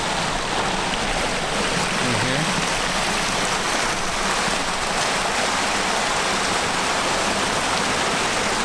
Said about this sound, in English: Another little mini waterfall.